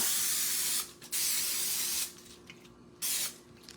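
Bursts of hissing aerosol cooking spray onto tortillas, close up: one long spray, a short pause, another long spray, then a shorter burst, with no talking.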